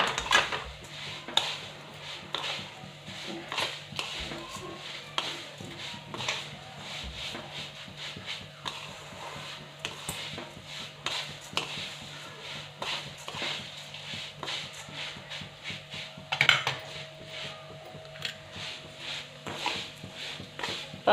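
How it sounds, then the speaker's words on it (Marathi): Vermicelli being stirred and roasted in a pan until reddish, with steady scraping and rubbing strokes of a spoon against the pan, fairly quiet and continuous with brief louder scrapes. "आणि आता ह्या शेवया एकसारखे हलवत छान लाल रंगावरती खरपूस भाजून घेऊ."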